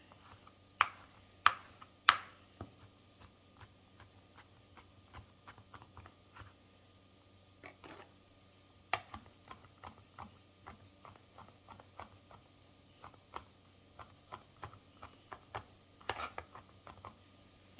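Knife chopping vegetables on a cutting board for vegan taco fillings: faint irregular taps and knocks, a few sharper ones early on, over a low background hum with no talking.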